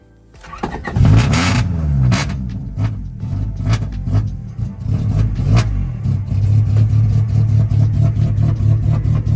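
A cheap project car with a rough-running engine starts and is held on the throttle, loud, close revs rising and falling before settling into a steady, uneven high idle.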